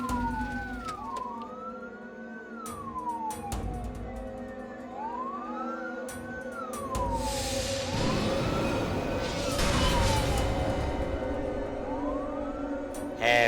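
Ambulance siren wailing in rising and falling sweeps, steady and fairly close, growing louder and busier toward the end as traffic noise swells beneath it.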